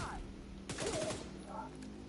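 Submachine gun fire in The Division 2 video game, a quick burst of rapid shots over steady background noise, fairly faint and brief, with a short vocal sound around it.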